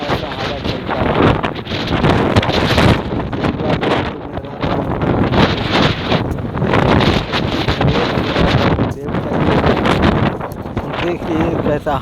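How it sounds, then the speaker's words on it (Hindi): Strong wind roaring across a microphone at an outdoor work site in Muscat, Oman, a loud continuous buffeting rush with gusty swells that fills the whole stretch. "देखिए कैसा हवा चलता है"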